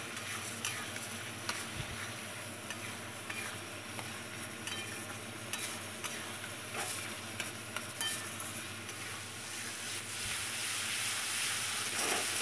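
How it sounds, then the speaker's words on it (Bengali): Egg and pointed gourd gravy sizzles steadily in a hot pan while it is stirred, with a continuous close frying hiss broken by faint scraping and clinks of the spoon, with no speaking. "একটু জল দিয়ে ভালো করে কষিয়ে নেব।"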